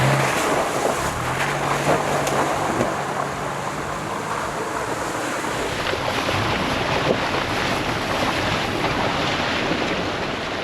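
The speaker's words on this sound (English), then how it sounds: "I'm sloshing through water" Water sloshes and churns continuously as an off-road overland vehicle drives through a creek, a broad rushing wash mixed with wind buffeting the microphone, steady and fairly close.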